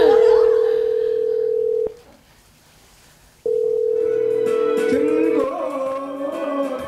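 A telephone rings in a home, a steady electronic tone that stops, pauses in near silence, then resumes before fading under a muffled TV-like background with faint voices.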